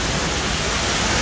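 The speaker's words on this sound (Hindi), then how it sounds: "पहली ही बारिश में रिकॉर्ड तोड़ बारिश का हाल यहाँ पर यह है कि दुकानें पूरी तरह से पानी से लबालब" Heavy first-season monsoon rain pours down as floodwater, carrying mud and silt, rushes into shops, making a dense, steady roar of water that fills the short stretch without a break.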